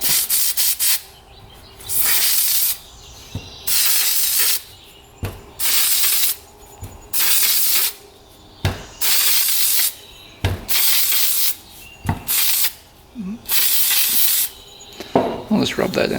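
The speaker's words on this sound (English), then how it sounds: "Just gonna spray a little bit." Short hissing sprays of aerosol foam air-filter oil onto an ATV foam filter come in regular bursts about a second long, repeated roughly eight times with brief pauses between.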